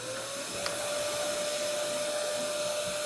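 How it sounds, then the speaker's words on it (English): A Nilfisk VP300 HEPA canister vacuum cleaner running alone indoors, a steady, fairly quiet whirring hum with a clear motor whine that starts up and holds evenly. "if I turn the vacuum on"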